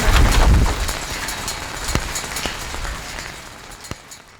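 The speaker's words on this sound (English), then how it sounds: "That's hail, Dan." Hail falls during a storm on a cattle property, a dense crackling patter of pellets striking nearby surfaces, with sharp isolated impacts rising out of the steady rush.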